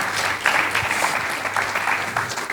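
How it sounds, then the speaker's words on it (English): A room full of people applauds steadily, dense clapping near and far continuing throughout. "Please, round of applause."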